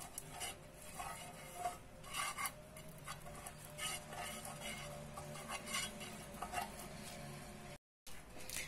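A lump of butter is rubbed around a frying pan, giving soft scraping and light metallic stirring sounds in a quiet kitchen, with a faint sizzle.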